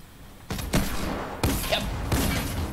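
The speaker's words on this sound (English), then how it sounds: "Oh, he's a hand cannon." A hand cannon fires in a first-person shooter video game. Three heavy shots come roughly a second apart, each a sharp boom with a rumbling tail, close and loud.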